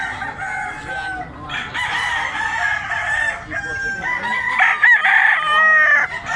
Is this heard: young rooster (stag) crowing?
yes